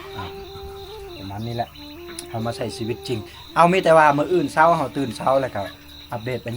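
Frogs and insects call in the forest at night around a tribal village, a steady high insect trill and chirping running under someone talking throughout.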